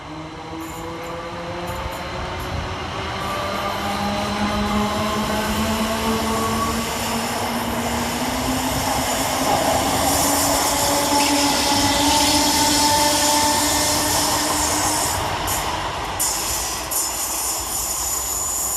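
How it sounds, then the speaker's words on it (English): A pair of Class 321 Greater Anglia electric multiple units leave Stratford station on a Braintree to London Liverpool Street service, giving a loud steady rumble with rising and falling motor tones and faint wheel squeal, heard alone. "we shall get started with 321 313 and 321 433. Departing with the 1952 Greater Anglia service from Braintree to London Liverpool Street."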